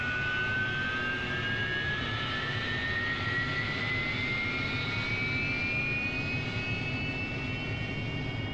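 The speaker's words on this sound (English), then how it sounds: "We're now going to pop the throttle out of cutoff and into the idle position, and the engine will go for a full startup." An AV-8B Harrier jet engine spooling up from idle in the DCS flight simulator, a steady roar beneath a thin rising whine that climbs slowly and evenly throughout, constant and close.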